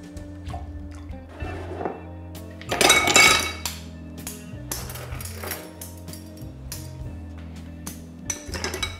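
Bar spoons stir White Negroni cocktails of gin, Lillet Blanc and Suze over ice in two mixing glasses, giving close, bright clinking and rattling of ice against glass, with a louder burst of jostling partway through.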